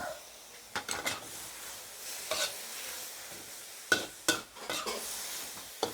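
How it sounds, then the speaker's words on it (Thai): Chinese kale with sun-dried pork being stir-fried in a pan, with a spatula scraping and clattering against the metal in irregular strokes over a faint sizzle, close by with no talk. "ผัดคะน้าใส่หมูแดดเดียวค่ะโรยหน้าด้วยกระเทียมเจียว"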